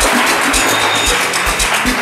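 Studio audience at a television talk show clapping, a sustained wash of applause with scattered low thuds running for a couple of seconds.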